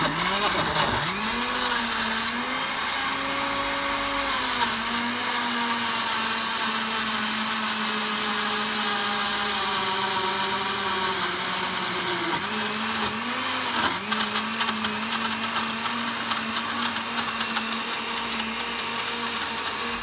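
A Russell Hobbs 650W blender whirs loudly and steadily at its lowest speed setting, its motor pitch dipping briefly as contents shift, close up with no talking.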